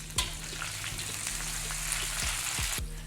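Chopped onions hit a hot pan of oil for a spicy clam dish, bursting into a loud sizzle that settles into steady crackling frying, with a few sharp clinks of a utensil against the pan.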